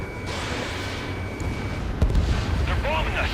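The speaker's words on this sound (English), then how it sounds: "They're bombing us." Bombing strikes in the flight combat game Ace Combat 7 rumble under a continuous dense roar, with a heavier boom about two-thirds through and radio chatter over it.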